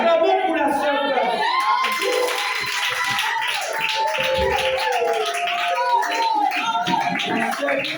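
Crowd of a church congregation applauding and cheering for a sister, with continuous clapping, shouts and whoops filling the room at close range throughout.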